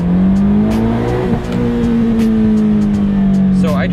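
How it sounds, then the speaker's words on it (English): Subaru BRZ engine pulling hard in first gear toward redline, a loud steady rising drone heard from inside the cabin, with a faint brief background sound near the end. "So I just did a first gear pull to red line."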